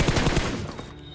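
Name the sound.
gunfire in video game PUBG Mobile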